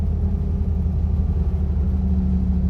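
A car engine at low rpm with the driver off the throttle, a steady low rumbling drone from inside the cabin, loud and even throughout with no speech.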